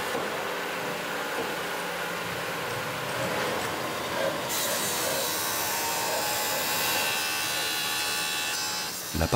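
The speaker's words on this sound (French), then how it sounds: "La partie pure et bicolore est prétaillée avec une scie à diamant." A diamond saw grinds through a Bolivian ametrine gemstone during pre-cutting, giving a continuous loud whirring hiss that brightens partway through and cuts off at the end.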